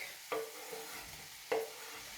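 Steady sizzle of chicken stir-frying in a pan, with two sharp scrapes of a utensil stirring it about a second apart.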